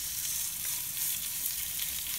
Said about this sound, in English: There you can hear that sizzle.